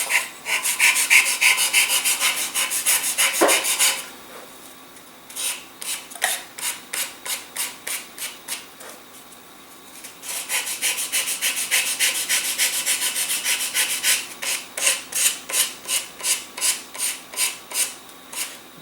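Balsa wood fuselage edges of a small Mini Windlance boost glider are sanded by hand in quick rhythmic back-and-forth rasping strokes, with bursts of steady rubbing separated by short pauses.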